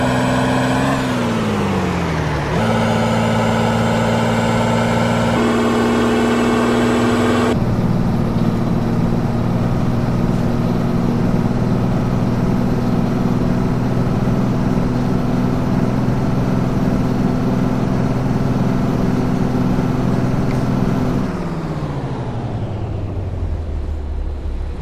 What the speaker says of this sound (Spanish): Ahí tienen el motor, escúchenlo pues